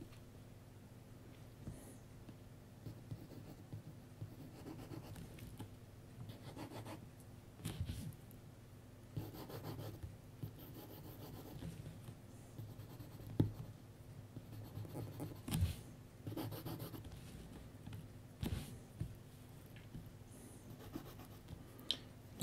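Graphite pencil sketching on paper, quick scratchy strokes and short hatching marks in irregular bursts, close and fairly quiet, with soft rubbing between strokes.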